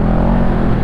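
A Bristol Bobber 700 motorcycle with a stock exhaust, its engine giving a loud, close, steady rumble throughout a very short moment.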